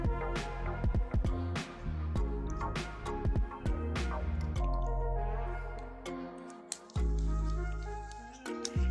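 Dishes are washed by hand with a sponge, soap and water, giving close, busy clatter, clinks and drips along with splashing and scrubbing noises.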